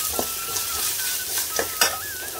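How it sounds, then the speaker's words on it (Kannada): Finely chopped onions sauté in a hot pan with a steady, close sizzle, broken by a few sharp scrapes of stirring. "ಈರುಳ್ಳಿಯನ್ನು ಕೂಡ ಹಾಗೆ 1-2 ನಿಮಿಷ ಬಾಡಿಸ್ಕೊಳ್ಳುವ"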